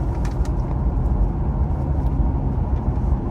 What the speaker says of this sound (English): Wow, and look at all the traffic.